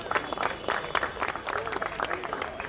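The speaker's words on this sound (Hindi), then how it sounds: "आप लोग तालियां मत रुकने मत दीजिए बस" Applause from the crowd at a seminar on railway jobs held by the Divine Help Foundation, a lively patter of many hands under a speaker's voice.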